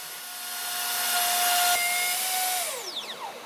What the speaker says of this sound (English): Standard drywall screws are used to secure the template onto the stringer.